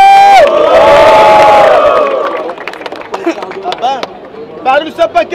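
Loud crowd cheering and shouting at a Brazilian freestyle rap battle in São Paulo, a dense roar that fades into scattered whistles, yells and bursts of noise.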